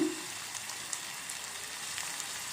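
Onions fry in a pan with turmeric, producing a faint, even crackling sizzle, soft and continuous with no talk.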